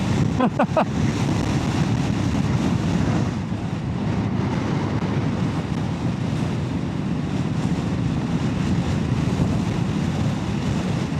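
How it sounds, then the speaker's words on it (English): Strong wind buffets the microphone continuously, a loud roaring rush with low rumble throughout. "Oh, it's a windy day."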